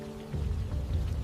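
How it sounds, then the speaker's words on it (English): Rain falls on a forest floor, a short burst of dense low patter that swells after a quiet start, with a faint rumble beneath. "Then rain begins, turning the forest floor into a cold and moving world."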